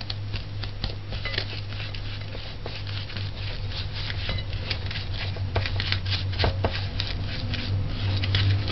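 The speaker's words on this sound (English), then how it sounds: "Cream the sugar and the butter." Butter and sugar being creamed for a marble cake with raspberry and chocolate, heard as a busy, rhythmic scraping and patter of mixing, close and continuous over a low steady hum.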